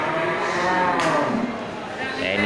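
Aceh cattle at a livestock market, a loud close moo rising and then fading over a steady background murmur of the market crowd.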